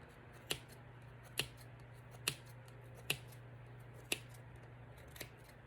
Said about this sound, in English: cut the yarn